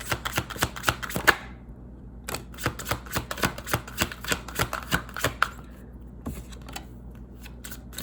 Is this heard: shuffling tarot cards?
yes